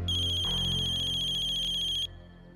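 A mobile phone ringtone plays loudly with a steady, repeating electronic pattern for about two seconds, then cuts off, leaving quiet background hum.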